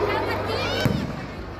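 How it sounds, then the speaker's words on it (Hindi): Fireworks bursting amid a busy crowd at a Dussehra Ravan Dahan effigy-burning celebration in Jabalpur, India, with crackling pops and one sharper bang near the middle, over continuous background noise and voices. "अपने शानदार आतिशबाजी का नमूना प्रस्तुत करती है"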